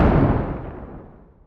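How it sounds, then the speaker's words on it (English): A stock mortar explosion sound effect: one deep, booming blast that starts loud and rolls off into a long, fading rumble, alone with no voices. "I went to Epidemic Sounds and looked up some explosion sound effects"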